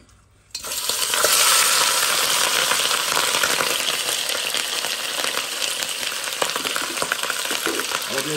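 Pieces of guinea fowl drop into hot oil and set off a sudden loud, dense sizzle that holds steady and close with faint crackles throughout.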